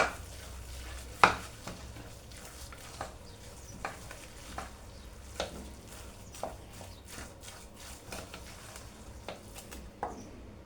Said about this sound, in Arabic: هنا غادي نخلط الكفته مع الرز والعطريه